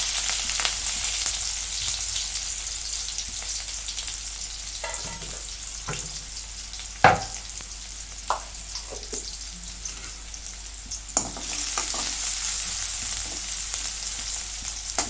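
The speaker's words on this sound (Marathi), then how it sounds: "आता कांदा चांगला लालसर भाजून घेतलाय" Chopped onion fries in oil in a wok, giving a steady soft sizzle throughout, with occasional louder stirring clinks and scrapes close by and no talk.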